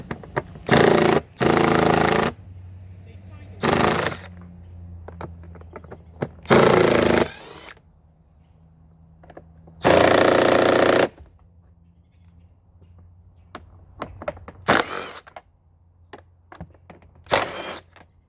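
Milwaukee power tool driving air filter bolts on a Yamaha Breeze 125 scooter, with several loud whirring bursts of one to two seconds separated by quieter clicks and handling noise, close by.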